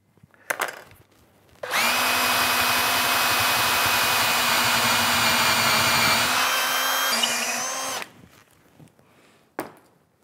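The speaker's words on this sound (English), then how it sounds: "I'm going to start the bit vertical and then change the angle after I've entered the wood." Power drill boring into wood for a sack back Windsor chair, a steady loud whine of about six seconds that shifts pitch midway, framed by faint handling knocks before and after.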